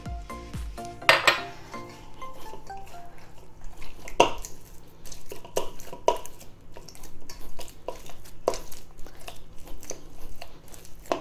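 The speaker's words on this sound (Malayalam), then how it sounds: "അപ്പം ഞാൻ കുറച്ചും കൂടെ വെള്ളം ഒഴിക്കുന്നത്." Water is poured into paratha dough for dhaba-style gobi paratha and worked in a bowl, a sequence of scattered clinks, taps and wet squelching knocks, close by and without voices.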